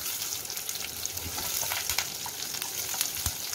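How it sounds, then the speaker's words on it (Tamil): Garlic, onion, dried red chillies, mustard seeds and curry leaves sauté in hot oil, giving a steady close sizzle and crackle with occasional sharper pops, no voices. "பூண்டு வெங்காயம் மஸ்டர்ட் சீட் கொஞ்சம் எண்ணெய் விட்டு நம்ம வந்து இதை இந்த சாமான்கள்லாம் போட்டு நல்லா வதக்கி எடுத்துக்கலாம்"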